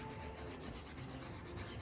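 An orbital sander rubbing over textured, painted and top-coated wood in a continuous coarse hiss, steady and close, with no voices.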